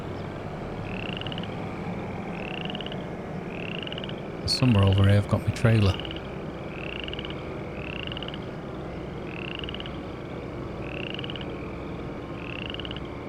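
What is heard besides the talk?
frogs croaking at night in Farming Simulator 25 video game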